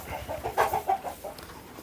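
Chickens on a poultry farm in The Gambia clucking in a quick, uneven run of close, moderately loud calls, with no talking.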